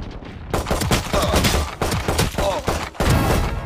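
Rapid bursts of gunfire from a Valorant match fill the mix, with loud, dense volleys of shots that keep going and overlap each other throughout.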